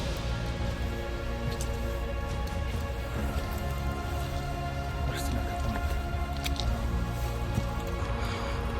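Heavy rain pours during a storm on a mountain trail, a dense steady hiss of drops striking surfaces nearby with occasional louder splats, constant throughout.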